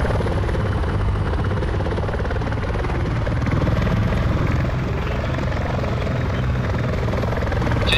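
A military helicopter in the Arma 3 game flies with a steady, loud, close rotor drone and engine whine that holds unbroken throughout.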